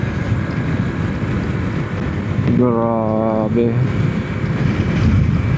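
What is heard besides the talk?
strong wind while riding a motorcycle on the coast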